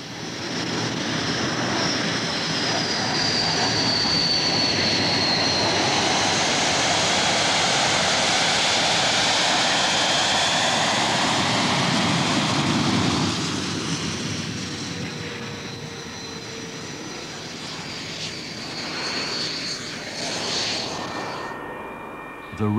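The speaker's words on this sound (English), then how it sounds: "The intake guard is removed and the engine started." A Hawk jet's engine spools up into a loud, steady high-pitched whine and roar that rises and holds before easing off near the end, with no talking over it.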